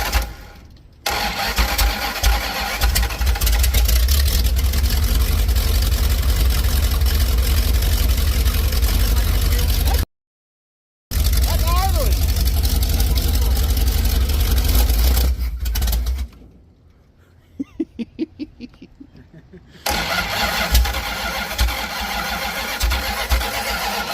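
A Big Block 440 engine in a Cushman build fires up for the first time and runs loud and close, roaring steadily. It cuts out briefly, then revs again with sputtering pulses before settling back into a heavy, continuous rumble.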